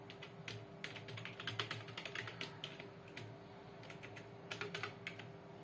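Code is typed on a computer keyboard in quiet, close bursts of clicking keystrokes, broken by short pauses.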